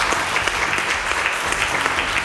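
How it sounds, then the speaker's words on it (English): Loud, dense applause from an audience at a graduation reception honouring graduates, a continuous roar of many hands clapping together close by, steady and sustained with no talking. "they deserve a big round of applause"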